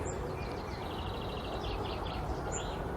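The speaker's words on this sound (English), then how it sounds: "If you heard that, that is a goldfinch." Goldfinch singing from trees on an allotment plot, a quick run of twittering high notes over steady outdoor background noise.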